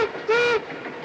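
Narrow gauge steam train on a Western railroad, a short steady whistle blast rising over a rolling mechanical rumble that continues after the whistle stops.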